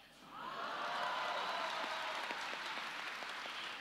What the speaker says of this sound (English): Applause for India.